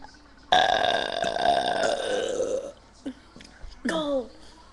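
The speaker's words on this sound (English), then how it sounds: "Have you ever seen two teenage girls have a burping contest?" A teenage girl lets out one long, loud, rumbling burp during a burping contest, followed by brief voices and laughter in the room.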